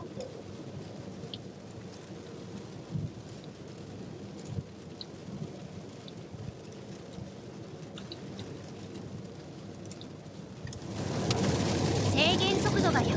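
Heavy rain drums on a car driving along the Shin-Tomei expressway in Japan, a steady wash of road and rain noise inside the vehicle that swells louder near the end.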